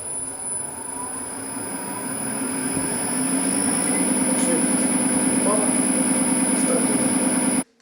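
A wheel balancing machine at a vocational training center spinning up to speed, a steady mechanical hum that rises and settles into a rapid, even whirring pulse before cutting off abruptly, with a voice talking over it.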